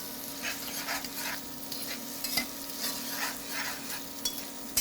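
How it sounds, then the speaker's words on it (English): Tomato pasta ingredients stirred in a pan, a soft frying hiss under repeated scraping strokes in an uneven rhythm with a final sharp knock, no voices. "I'm just going to give this a little stir."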